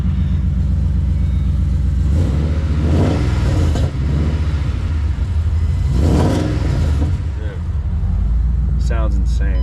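Ford Mustang Shelby GT500 supercharged engine revving at an auto auction, a loud, deep rumble with two strong rev surges and a brief lull between them.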